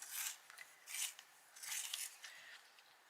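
Magenta colouring pencil being sharpened, giving close, quiet scraping rasps in four bursts with short pauses between, no talk.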